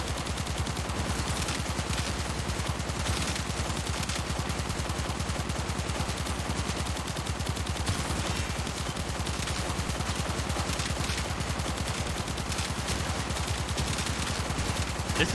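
Continuous, very rapid automatic gunfire in Warframe from a Lich/Sister weapon, a dense steady stream of shots that runs without break at even loudness throughout.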